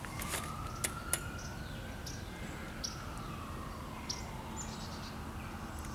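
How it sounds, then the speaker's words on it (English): A faint siren wails in the distance, its pitch slowly rising and falling, while birds chirp now and then nearby. "Always praying for the people when I hear the sirens."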